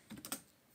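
Computer keyboard typing during a Python programming lesson, a few quick close keystrokes clustered together in a short burst, then quiet, with no talking.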